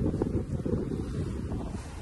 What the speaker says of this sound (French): Et le vent s'est levé.